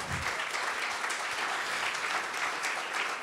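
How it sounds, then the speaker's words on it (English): Steady audience applause following a remark at a panel discussion, a continuous wash of many hands clapping at even loudness throughout. "I think that deserves applause."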